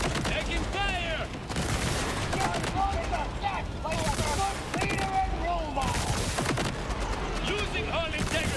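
Continuous incoming gunfire rattles against a spaceship in a video game, a dense, steady barrage of impacts and bursts lasting throughout, with occasional booms mixed in and a voice heard over it.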